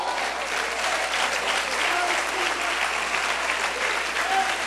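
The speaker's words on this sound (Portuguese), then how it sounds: "Se você crê e profetiza isso, aplauda o nome do Senhor." A church congregation applauds at a worship service, a dense, steady wash of many hands clapping that holds evenly at full strength from start to finish.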